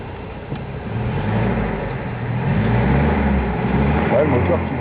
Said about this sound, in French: le moteur qui monte bien au régime, tourne bien rond